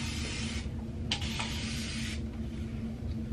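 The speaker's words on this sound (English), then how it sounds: "we're gonna lightly spray it" A spray bottle mists damp hair, producing a long soft hiss followed by a couple of shorter bursts, close up and quiet over low room noise.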